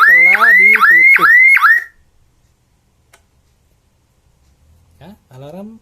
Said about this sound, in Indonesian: alarm tetap akan mendetek pintu telah terbuka, akan berbunyi kembali